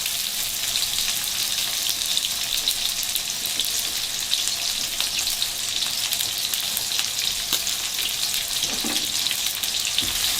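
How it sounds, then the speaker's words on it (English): Bell peppers hit hot oil in a pan, giving a steady, dense sizzle that runs loud and unbroken throughout, with faint crackles and a few soft scrapes as the vegetables shift. "you want to make sure that your bell peppers are going in with hot oil"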